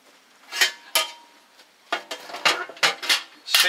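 A metal water heater being fitted around the first flue section of a Frontier camping stove, clipping into place with several sharp metallic clanks and scrapes, close and distinct.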